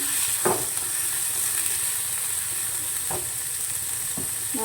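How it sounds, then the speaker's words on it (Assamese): Carrots and peas being stirred in a frying pan of vegetables for Maggi noodles, a soft steady sizzle with a few scraping stirs of the spoon, close and quiet, with no talk. "মই চব্জিত গাজৰ আৰু মটৰ দিছোঁ। এইখিনি মই লৰাই ল'ম।"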